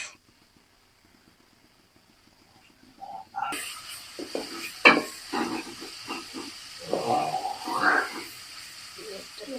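Pumpkin frying in a pan in the oil left from frying eggs: after a few seconds of silence a steady hiss and sizzle sets in and carries on, rising and falling, with faint voice-like sounds mixed in.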